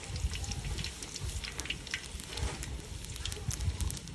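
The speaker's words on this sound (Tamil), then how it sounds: "கடுகு போடுறேன்" Mustard seeds dropped into hot cooking oil, a steady crackling sputter with scattered sharp pops, fairly faint and continuous.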